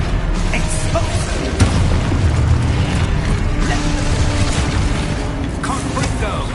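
An Expulso explosion spell goes off in Hogwarts Legacy, a short booming burst with popping debris amid busy game combat sounds, with a voice heard over the mix.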